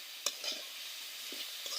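Mustard greens stir-fried in a pan with coriander leaves, a faint steady sizzle broken by a few light scraping stirs of a spatula.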